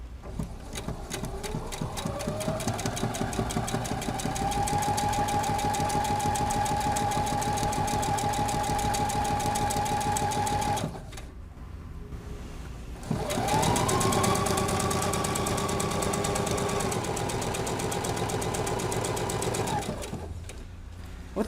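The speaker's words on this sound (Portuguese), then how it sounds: "eu estou usando o pedal da máquina, porque eu acho prático, controla a velocidade da costura" A domestic sewing machine, run by foot pedal, stitches a straight seam joining fabric strips for a Christmas wall hanging. Its steady motor whir plays close and clear in two long runs separated by a short pause.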